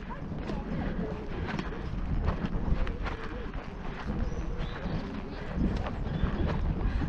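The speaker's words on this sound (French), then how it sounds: "Et je décide d'aller au trot sur le vertical." Horse trotting on a riding arena during a jumping session, its hooves clip-clopping in a steady rhythm, close and moderately loud, with wind noise throughout.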